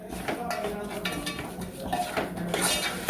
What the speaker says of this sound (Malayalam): ഇത് നന്നായിട്ട് ഇളക്കിയിട്ടിനി നന്നായി ഈ മസാലയോട് കൂടിയിട്ട് ചേർക്കണം